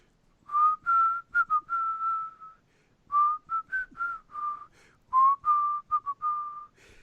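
A man whistles a melody alone, a clear, close tune in three phrases of sustained and stepping notes with short pauses between them.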